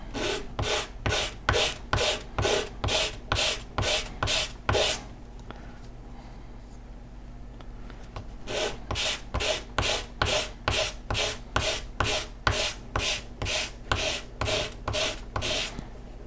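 Rhythmic back-and-forth strokes of sandpaper rubbing against a small wooden fin of an Estes Red Nova model rocket, close up, with a brief pause midway before the scraping resumes.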